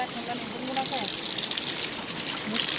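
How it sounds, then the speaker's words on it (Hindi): Warm spring water pours from a small waterfall in winter on a mountain trip, a steady close rushing and splashing that fills the scene with no words spoken. "जो ये झरना, इससे ना गर्म पानी आ रहा है ठंडियों में भी"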